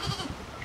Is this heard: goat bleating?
yes